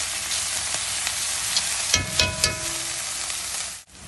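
Onion pieces fry in oil in a pan for bhindi masala, making a steady, close sizzle with a few clinks and stirring scrapes partway through, and no talk.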